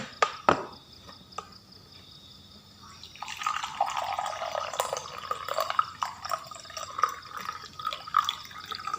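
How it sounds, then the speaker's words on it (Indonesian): Hot water poured into a cup holding a teaspoon of salt, heard as a steady splashing pour that begins midway after a few light clinks and continues to the end, close and moderately loud. "sesendok teh garam, masukkan ke cangkir, lalu tuangkan air panasnya"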